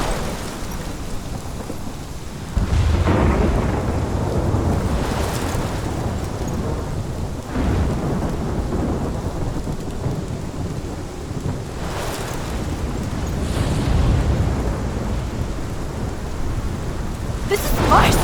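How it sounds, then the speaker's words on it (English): A thunderstorm in the video game Life is Strange: steady heavy rain and wind with several rolling thunder rumbles swelling and fading throughout, loud and close, with no talking. "This is my storm."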